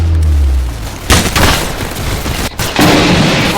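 Double-barrel shotgun blasts in a video game: a heavy boom near the one-second mark and another near the end, each a loud broadband burst, with game background noise running throughout.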